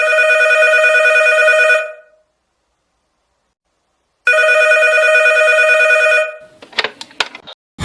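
A telephone rings through to a police precinct in two long electronic trills separated by silence, loud and close, followed by a click and clatter as the receiver is picked up.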